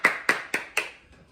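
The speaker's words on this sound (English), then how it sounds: "Let's do a round of applause for that." Four sharp, evenly spaced claps from a small group during an awards recap, close and distinct, then trailing into a few faint scattered taps.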